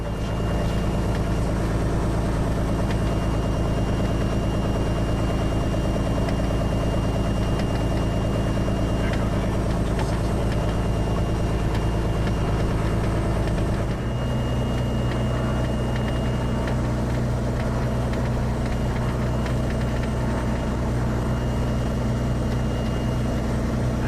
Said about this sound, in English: this is taxiing out from our hangar